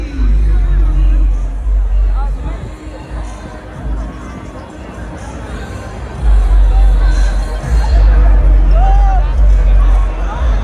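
Dense crowd hubbub at a large street festival, a constant loud babble of many voices with surges of louder noise, a nearby voice occasionally heard within the din.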